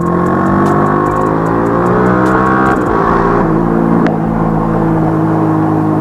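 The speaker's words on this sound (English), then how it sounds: "I hope you guys are only listening to the exhaust and my voice." A Yamaha R15 V3 motorcycle exhaust drones loud and close, its engine pitch rising and falling through steady revving with a deep throaty rumble throughout.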